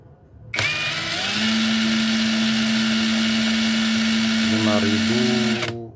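A Monqiqi impact wrench runs in low mode, a sharp, loud, steady motor whine starting abruptly and holding for about five seconds with slight pitch shifts near the end before cutting off.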